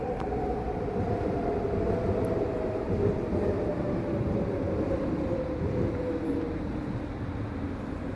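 A train pulling into a station platform gives a loud, continuous rumble with a slowly falling whine throughout, close and steady with no voices.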